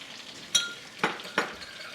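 A spoon scrapes and clinks three times in a pan of lemon juice and sugar sauce, the strokes close and distinct over a quiet background.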